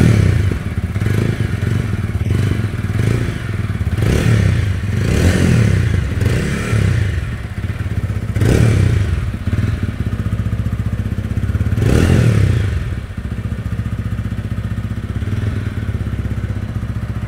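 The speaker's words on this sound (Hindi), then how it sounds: "अब चलिए इसका एक एग्जॉस्ट का नोट सुन लेते हैं, जिससे आपको आइडिया लगेगा इसके अंदर में कैसा आपको एग्जॉस्ट का साउंड मिल जाता है" A TVS Ronin 225 motorcycle idles with a deep, thumping exhaust note up close, and it is revved several times in short bursts before settling back to a steady idle.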